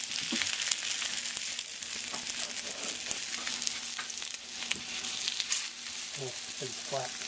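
Flautas sizzling steadily in a deep fryer, a continuous crackling hiss of hot oil that holds at an even level throughout with a few soft clicks and knocks near the end.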